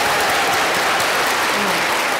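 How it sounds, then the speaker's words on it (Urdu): A studio audience at a Bait Bazi Urdu poetry competition, held on the first day of Eid, breaks into applause. The clapping is loud, dense and continuous, filling the whole moment. "ہاں تالیاں."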